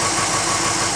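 A 1951 Ford engine running with a scrubbing noise, a loud, close, continuous rumble with a steady rough churning texture and no talk.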